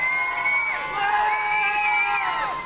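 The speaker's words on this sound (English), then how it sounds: "If you think this person should be eliminated, cheer now!" A studio audience at an entertainment elimination show cheers and whoops to cast a vote, a loud sustained crowd roar with high shouts and children's voices rising and falling over nearly three seconds.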